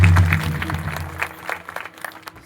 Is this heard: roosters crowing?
no